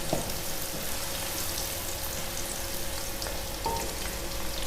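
Onions fry in hot mustard oil with a steady, close sizzle and crackle, and a few soft stirring clicks break through the hiss.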